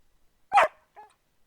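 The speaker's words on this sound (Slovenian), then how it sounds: "To je Jure in to je njegov kuža" A dog gives two short barks, a loud sharp one followed by a fainter, softer one, standing alone against silence.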